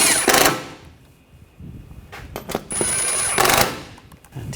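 Screws being tightened down on an interior trim panel of a 2013-2022 Buick Encore during a coolant temperature sensor replacement: two short, fairly loud whirring mechanical bursts with quieter handling and clicks in between.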